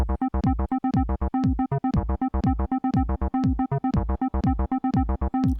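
A punchy synthesizer loop repeats a short rhythmic pattern of plucky bass notes with sweeping filtered tones, steady tempo, played alone and fairly loud.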